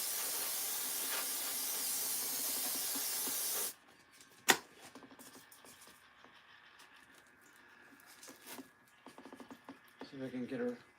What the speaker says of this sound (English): spray a little releasing agent on it just in case